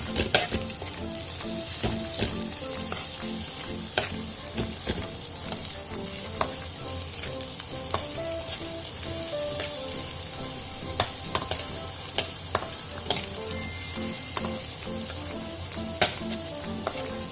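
Sliced onion frying in a pan for ginisang ampalaya gives a steady, dense sizzle, with frequent sharp clicks and scrapes of stirring scattered throughout.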